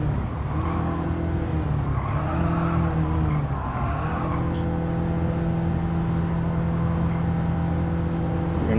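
Race cars lapping the Goodwood Festival of Speed course in Gran Turismo 7: a steady, loud engine drone with shifting pitch and tire squeal over it, continuous and close, with no talking.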